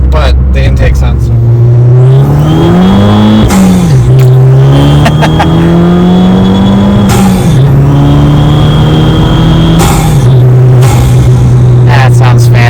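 A Fiat 500 Abarth with an aftermarket intake pulls hard from inside the cabin, its loud, climbing engine note rising and holding through the revs, with a person talking over it.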